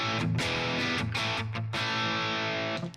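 Crunchy, distorted electric guitar chords through a boosted Timmy overdrive pedal strum in a steady rhythm, thick and driven, then ring out at the end.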